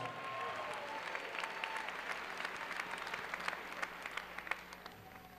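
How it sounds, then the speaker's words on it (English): A crowd at a high school graduation ceremony applauds the graduating class, a steady wash of many hands clapping at a moderate distance, continuous for several seconds with no talk. "Give yourselves a round of applause."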